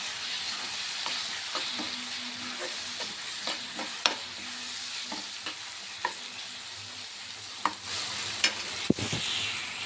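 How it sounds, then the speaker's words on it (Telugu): Chili powder fries with onions in a pan for fish curry, a soft steady sizzle with intermittent spoon taps and scrapes, fairly quiet and close with no voices. "ఈ కారం కొంచెం లైట్గా ఫ్రై చేసుకుంటే పచ్చి వాసన పోతుంది"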